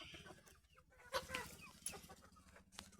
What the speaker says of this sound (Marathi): कोंबड्या कशा भात खायला बघा